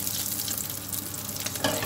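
Small pieces of meat for shawarma fry in a pan, with a steady, close sizzle that swells louder near the end, as if stirred.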